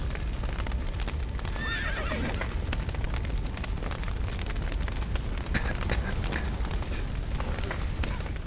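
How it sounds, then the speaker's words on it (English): Horses neigh and their hooves clip-clop over a dense, roaring background of crackling and rumbling, in the video game The Witcher 3: Wild Hunt, after a roof collapses. "The horses!"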